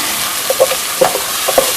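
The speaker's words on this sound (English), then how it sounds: "And saute this until it's nice and fragrant." Garlic sizzles in a pot under an even, loud frying hiss, with a few soft scrapes as it gets stirred, close up and with no talking.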